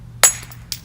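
A copper billet strikes a piece of obsidian to trim its edge, giving one sharp close tap followed by a fainter second click, brief and crisp.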